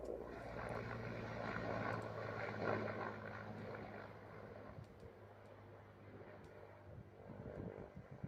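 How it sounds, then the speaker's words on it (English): Mi-17 military helicopters flying over fields in Ukraine, a steady broad engine and rotor drone with a low tonal hum, loud at first and easing slightly as they pass, no talk. "here's the rest of this video where we see these Mi-17s flying over"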